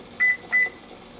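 A kitchen timer is set for boiling eggs and gives two short, clear electronic beeps close by, evenly spaced, over a quiet room.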